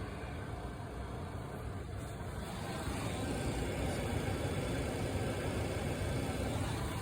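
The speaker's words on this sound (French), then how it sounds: "Ça devrait être le bruit d'un moteur électrique qui fonctionne normalement, d'un pulseur d'air plutôt." Electric heater blower motor in a Renault Clio 3 running with a steady, constant whir inside the car, no talk, a slight rise in level partway through.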